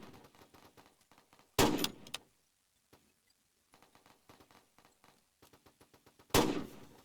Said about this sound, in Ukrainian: Він стріляє куди-небудь.